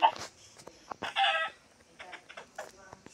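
Chickens cluck in a Minecraft game, several short clucks scattered across the moment, fairly faint and quiet overall.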